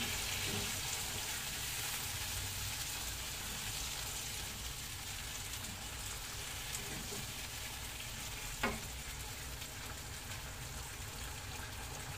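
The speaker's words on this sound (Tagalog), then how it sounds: "Talagang gisang sardinas lang po." Steady sizzling and crackling of sardines sautéing in a pan, continuous and fairly close, with a single sharp tap near the end.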